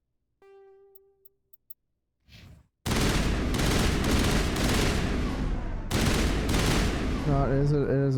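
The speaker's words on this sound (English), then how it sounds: "it's the Tsunami burst rifle" Burst fire from a Tsunami burst rifle in Mass Effect: a few faint clicks, then loud, dense automatic bursts that run almost unbroken for several seconds, with a short gap before the firing resumes.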